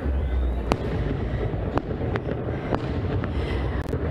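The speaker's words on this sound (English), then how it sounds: "we see the fireworks going off behind you" Fireworks crack and pop at a distance during Miami's New Year 2024 celebration, a handful of sharp bursts at irregular intervals over a steady low rumble of background noise.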